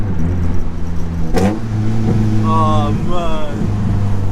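A straight-piped Honda EP3 Type R drones loudly up close, with a sharp exhaust blip as it downshifts, then a steady engine rumble while someone speaks briefly over it.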